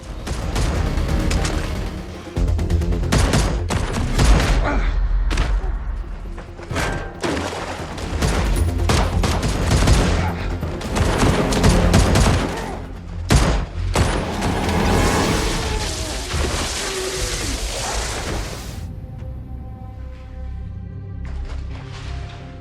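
Bursts of gunfire and heavy impacts crash through a dense, loud action soundtrack, dropping to a quieter tail near the end.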